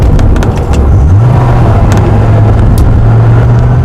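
A Dodge Viper's engine idles with a loud, steady low rumble, a deep drone holding throughout with a slight rise in pitch early on, close by and with no talking over it.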